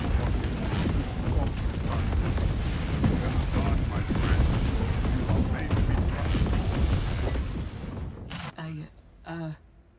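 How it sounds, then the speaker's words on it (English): Explosions and gunfire from the real-time strategy game Tempest Rising rumble continuously in a dense, loud barrage with a voice talking over it, then cut to brief bursts of game voice near the end. "Dude, I can't hear you over the explosions"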